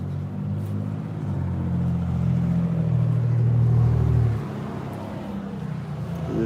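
A loud truck drives past at night, its deep engine rumble swelling to a peak and then cutting away as it moves off.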